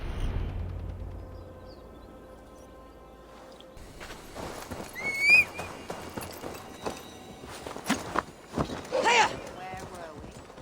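Horse hooves clop at a steady pace while riding through a forest in the video game Assassin's Creed Valhalla, joined partway through by louder clattering and rustling game effects.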